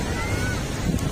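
Ocean waves rush and break in a continuous roar, with wind buffeting the microphone close up.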